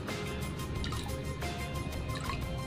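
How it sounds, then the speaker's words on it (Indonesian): Boiled ketapang leaf water is poured into betta fish water, giving a close, continuous trickling and splashing liquid sound with small drips and no talking. "selanjutnya dikasih air ketapang ini air ketapangnya direbus dulu ya direbus terus dikasih sedikit aja"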